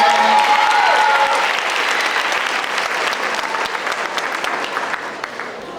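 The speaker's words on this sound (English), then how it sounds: "Let's give her a round of applause." Loud applause from the audience at an 8th grade graduation ceremony, dense clapping that starts strong with a brief tone and cheer, then slowly thins and fades over about six seconds.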